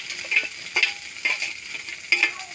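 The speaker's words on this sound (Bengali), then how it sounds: "সব কিছু একসাথে দিয়ে আমি ভালো করে ভেজে নেব।" Maggi chow mein with egg and peanuts stir-fried in a pan, with a steady sizzle and a scraping stir that returns roughly every half second, close and clear with no talking.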